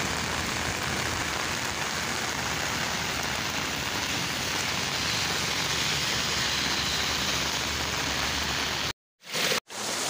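Heavy monsoon rain pours down steadily in Taxila as a dense, continuous hiss across the whole stretch, cutting out abruptly near the end.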